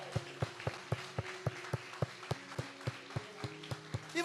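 A church congregation claps in a steady rhythmic beat, about fifteen even claps over a few seconds, close and bright above a low background of music and room noise.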